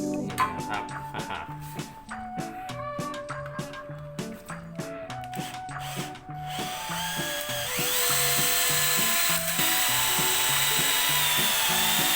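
A power drill with a multipurpose bit pulses and chatters in uneven bursts, then settles into a continuous loud, grinding whine as it bores slowly into steel up close.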